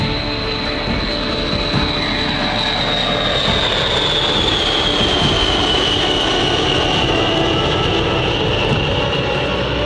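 A large B-52 bomber flies overhead during a bomber task force deployment in Europe, producing a loud, steady, continuous engine roar with a slowly falling whine, heard alone throughout.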